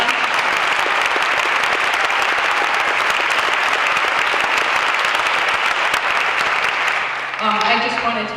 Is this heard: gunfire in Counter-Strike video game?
no